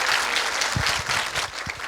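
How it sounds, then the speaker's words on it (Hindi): Audience at a Sanskrit quiz during a festival applauding a correct answer, a dense burst of clapping lasting a couple of seconds, fairly loud and close. "जोरदार तालियां स्मृति के लिए"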